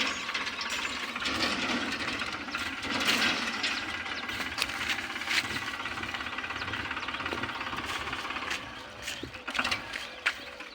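A tractor engine runs steadily nearby, knocking and rattling continuously throughout, with a few faint clanks over the idling drone.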